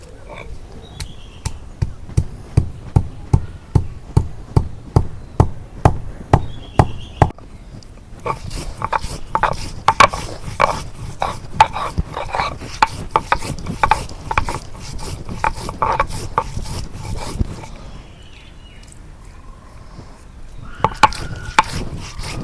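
Ginger, garlic and onion being chopped on a boti blade in a village kitchen: a close, steady run of sharp, evenly spaced chops that continues with brief pauses and no talk.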